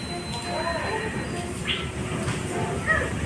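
A train rumbles past nearby, a continuous loud low roar with faint squeals and clatter from the wheels, steady throughout.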